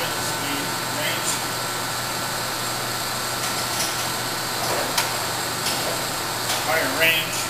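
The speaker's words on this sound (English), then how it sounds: "Higher spindle speed, range." A Nardini AM 3280 lathe spindle runs in its higher speed range, giving a steady broadband whir and hum with faint ticks, unchanging throughout.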